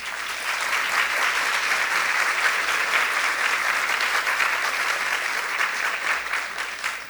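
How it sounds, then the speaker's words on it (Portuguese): A seated audience applauds at an ocean-themed panel discussion as a guest is invited onstage: broad, even clapping from many people, steady and sustained at a constant level throughout, with no speech over it. "Uma salva de palmas."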